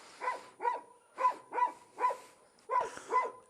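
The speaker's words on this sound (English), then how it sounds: "Can you hear the dogs? They're going nuts the first time they see the bike." Dogs bark excitedly at a big heavy motorcycle, letting out about seven sharp, close barks in an uneven rhythm with short gaps between them and no talking.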